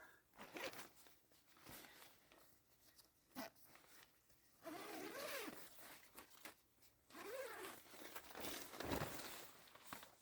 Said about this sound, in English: Finally, you want to open the zipper.